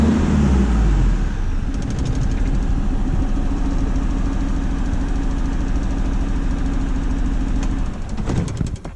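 Iveco Daily van diesel engine at idle with a misfiring cylinder, a loud, steady close-up rumble with an uneven knocking pulse that runs throughout and fades near the end.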